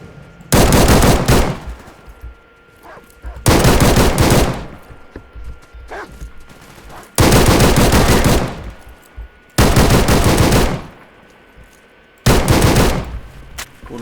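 Gunfire in the shooter game Stalker Radiophobia 3 during a fight with mercenaries: several loud, close bursts of rapid automatic fire, each lasting about a second, separated by quieter stretches of background game ambience.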